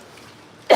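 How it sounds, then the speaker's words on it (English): A man clears his throat once, a short, loud rasp at the very end after near silence. "I gotta clear my throat"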